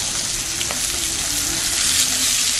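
A whole fish sizzles steadily in hot oil, a loud, constant crackling hiss with a few faint pops, close by and uninterrupted.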